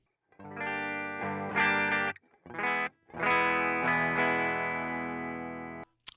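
A Gibson SG fitted with a DiMarzio 36th Anniversary PAF pickup plays clean chords through a Boss Power Stack pedal, a few ringing strums with short gaps, then a long sustained chord that fades before a final click.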